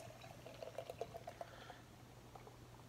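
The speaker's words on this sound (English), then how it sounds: "we'll crack this open. Give it a pour here" Wheeze The Juice IPA from Champion Brewing poured from a can into a glass, a quiet close trickle with soft bubbly gurgles over a steady low hum.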